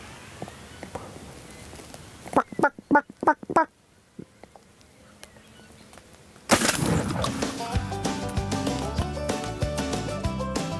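Wild turkey gobbles come in a quick series of four or five loud, rattling calls near a roost in Nebraska, followed by a brief quiet and then a burst of louder, clattering noise.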